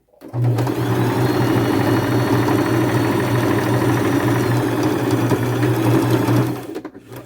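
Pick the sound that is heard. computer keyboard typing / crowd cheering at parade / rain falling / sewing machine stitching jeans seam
sewing machine stitching jeans seam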